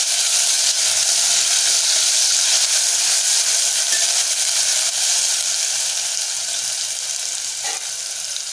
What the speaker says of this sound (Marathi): त्यामध्ये आपण हिरवी मिरची आणि आलं लसूण, कोथिंबीर ह्यांची जी पेस्ट घेतले ती घालूया